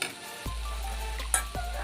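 A spatula stirs banana stem dry fry in a frying pan, two or three close scraping strokes over a low steady sizzle, with a faint metallic clink.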